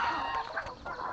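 Chickens cluck in a short, busy burst close to the microphone, with no voices.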